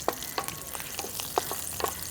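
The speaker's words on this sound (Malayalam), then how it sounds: "മുന്തിരിയും കൂടി അങ്ങോട്ട് നന്നായിട്ട് വറുത്തെടുക്കാം." Cashews and raisins fry in oil in a pan, with a soft, steady sizzle broken by a few scattered stirring clicks and scrapes, close by and with no one talking.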